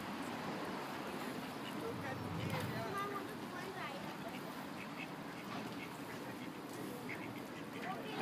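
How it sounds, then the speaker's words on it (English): Ducks quack now and then by the water in Switzerland or Italy, amid a busy outdoor wash of water and ambient noise, fairly steady and moderately loud throughout. "just gonna go play with some ducks and swans like I always do by the water."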